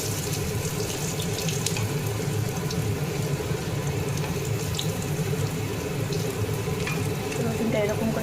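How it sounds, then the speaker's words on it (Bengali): Garlic fries in oil with black cumin and dried chili in a home kitchen pan, a steady close sizzle like running water that continues unbroken throughout, with faint clinks on top. "তো এখন আমি দেবো রসুন। আমি রসুনটাকে রান্না করি, সেই রসুনটা আমি দিয়ে দিলাম ভেজে করে।"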